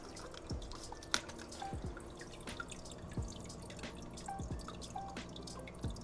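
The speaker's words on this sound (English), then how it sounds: "I'm gonna get in here and start siphoning out all of this algae" Water trickles and drips as algae and water are siphoned out of a neglected Fluval Flex 9-gallon aquarium, with soft, irregular splashes and gurgles over a faint, quiet background.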